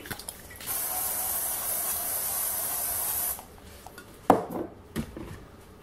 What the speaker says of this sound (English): I'm going to respray the pan.